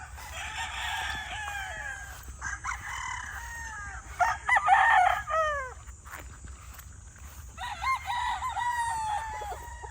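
Several chickens cluck and squawk in overlapping bursts, with rooster-like calls rising and falling, fairly distant over a low background rumble.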